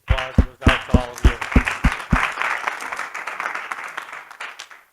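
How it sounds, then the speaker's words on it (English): A small audience at a construction technology and productivity summit claps, starting with a few loud, evenly spaced hand claps that quickly blur into a softer patter of applause that fades out. "This applause goes out to all of you."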